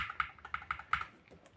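Typing on a lubricated Akko Fun60 Pro mechanical keyboard: a handful of soft, muted keystrokes in an uneven rhythm, close and fairly quiet, with no talking over them.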